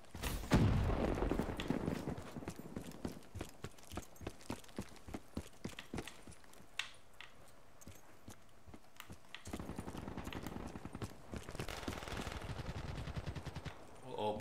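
Rapid hip-fired gunshots from a Call of Duty: Black Ops 3 match, loud sharp cracks in a quick rhythm through the first half, then a faint pause before a steady rumble of ambient battle noise returns.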